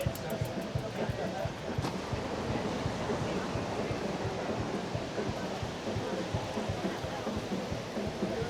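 Sea waves wash onto a Mallorca beach in a continuous broad roar, heavily mixed with wind buffeting the microphone.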